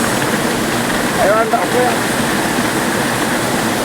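Kukicherra's Nepaltila waterfall roars as a steady, unbroken rush of falling water, with people talking over it.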